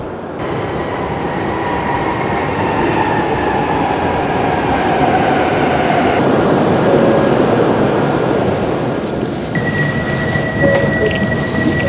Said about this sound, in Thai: ตอนนี้เราอยู่บนรถไฟชินกันเซ็นแล้วนะครับ